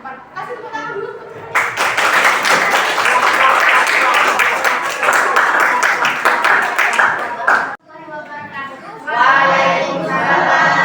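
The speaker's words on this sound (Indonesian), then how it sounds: "Kasih tepuk tangan dulu." Classroom audience claps for a student presentation, a dense burst of applause lasting several seconds, close and loud, with a teacher speaking before and voices following.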